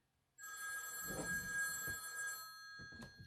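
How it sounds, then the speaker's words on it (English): A telephone rings indoors, its bright, buzzing bell tone starting suddenly and sounding continuously at close range, with a few soft knocks beneath it and a fresh burst of ringing at the end. "I know what that phone call is, and I better answer that."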